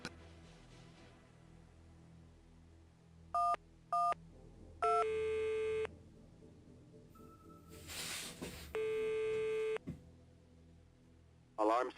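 Keypad tones beep as a telephone number is dialed to call an ambulance in a video game, in separate bursts of steady tones with pauses between them and a brief electronic chirp at the end.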